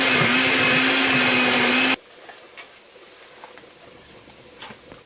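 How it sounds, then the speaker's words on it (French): A blender grinds seasoning loudly with a steady high whir for about two seconds, then cuts off abruptly, leaving faint kitchen clatter and light tapping. "So while I'm cooking the onion, I'm going to blend the seasoning."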